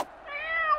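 A cartoon kitten gives one short, high, rising meow lasting under a second, clear and close after a brief soft onset, with nothing else heard.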